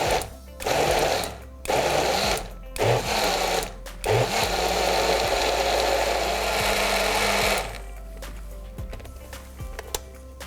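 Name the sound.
blender pulsing ingredients for fish curry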